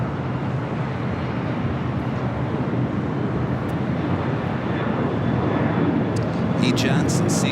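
A jet airliner arriving on the north side runways at LAX gives a broad, distant roar that swells slightly toward the end, steady and rumbling, with faint brief higher sounds near the close.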